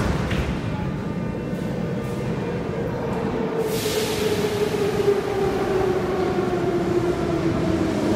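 A Moscow metro train on the Zamoskvoretskaya line nearing Paveletskaya station: a continuous rumbling roar with a slowly falling motor whine heard from inside the carriage, steady and fairly loud throughout.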